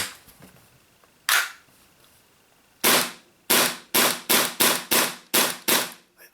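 A Tokyo Marui FN5-7 gas blowback airsoft pistol fires about ten sharp, loud, close shots, one early, then a rapid uneven string, each crack followed by the slide's snap.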